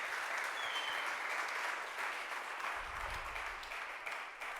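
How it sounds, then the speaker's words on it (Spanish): A church congregation applauds loudly and steadily after a sermon prayer, a dense, sustained wash of many hands clapping that fills the room without pause. "Denle un aplauso fuerte a ese que salvó nuestras vidas"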